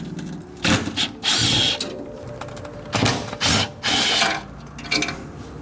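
A hand ratchet backs out 10 mm bolts on an RX7 transmission, heard as several separate bursts of fast mechanical clicking with short pauses between them, close by and with no talking.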